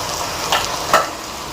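Garlic and ginger frying in oil for chicken korma, a steady close sizzle with two short stirring scrapes.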